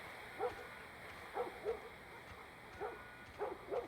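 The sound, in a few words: dog squealing in video game The Last of Us Part 1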